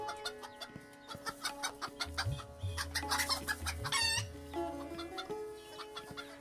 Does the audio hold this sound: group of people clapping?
no